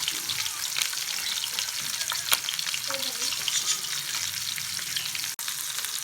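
Chicken sajji fries on a low flame in a pan, a dense even sizzle with occasional soft stirring scrapes and one sharp click near the end.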